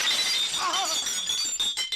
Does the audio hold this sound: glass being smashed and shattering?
yes